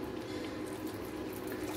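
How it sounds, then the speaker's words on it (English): Water is poured into chicken keema with chilies cooking in a pan, giving a soft, steady rushing hiss that runs evenly through the short moment with no voices. "So I'm now gonna add a little bit more water in"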